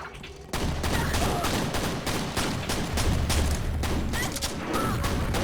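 Rapid enemy gunfire in Quake Brutalist Jam 3 pounds in a loud, dense volley of repeated shots and impacts, starting abruptly and continuing almost without pause.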